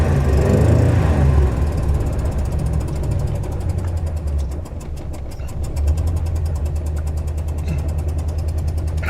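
A 1973 Dodge W200 truck engine idles after a cold start, a loud, rough rumble close by that dips briefly, then settles back into a steady, lumpy idle.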